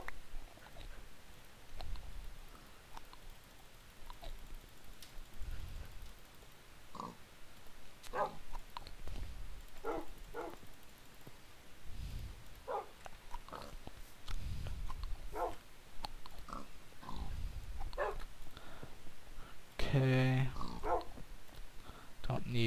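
Minecraft dogs give short, scattered barks and yips against a low background of game noise, some close and some softer.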